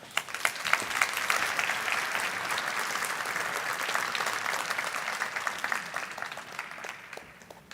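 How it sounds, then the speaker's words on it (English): A large audience at an international forum against racism applauds a panel moderator with sustained, even clapping that swells early and fades slightly toward the end, moderately distant and with no voices over it. "An applause for Gabriela."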